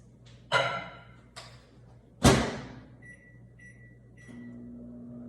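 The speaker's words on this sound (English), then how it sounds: "I'm going to get it in the microwave right now" A couple of loud thuds and a door slam, then a steady low hum starts with faint beeps as a microwave begins running.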